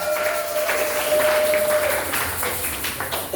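A church congregation in Lubumbashi applauds with steady, energetic clapping from a sizable crowd, sustained throughout, with a held tone and faint voices mixed in.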